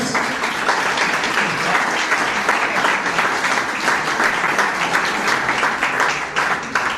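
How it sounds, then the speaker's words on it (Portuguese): Audience applause at a tourism industry gathering, a loud, continuous roar of many people clapping, rippling with small fluctuations and holding steady for several seconds without speech. "Um aplauso aos também"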